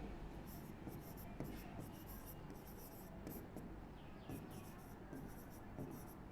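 Chalk or marker writing on a classroom board during a maths lesson on circles, a steady faint scratching and rubbing in short strokes under low room noise.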